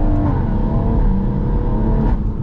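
Tuned 450bhp BMW M140i heard from inside while driving, a steady loud engine drone with road rumble throughout, no talking.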